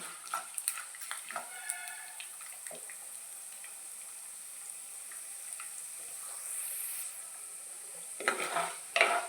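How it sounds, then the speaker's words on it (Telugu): Mustard seeds, urad dal and chana dal frying in hot oil, a quiet continuous sizzle with scattered crackling pops, ending in a louder burst of clattering near the end. "ఆవాలు, మినప్పప్పు వేసుకుని ఫ్రై చేసుకోవాలి."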